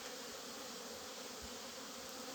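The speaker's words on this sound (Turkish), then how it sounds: "Bugün səhər-səhər biraz arılara baxdım" Honeybees buzzing around the hives on a spring morning, a steady faint hum filling the air without pause and with no voices.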